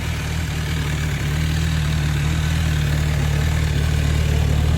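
MV Agusta 1090RR Brutale motorcycle idling on its stock exhaust, a steady, close, unbroken low rumble with no voices over it.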